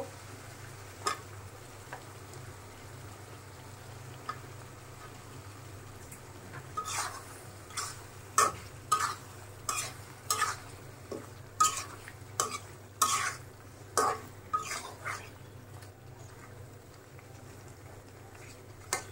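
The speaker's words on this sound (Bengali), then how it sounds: "এখন মাছটা আমি একটু কষাই নিব।" Fish is sautéed with spices in a pan for a curry, a steady low hum underneath and a run of sharp scraping stirs clustering in the second half, with occasional quieter clinks earlier.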